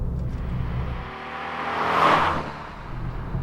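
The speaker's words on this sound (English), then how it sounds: "That is a cool sounding engine." A Fiat 500 engine revs up and eases off in one smooth swell, heard as a close, loud whirring rise and fall with no talk over it.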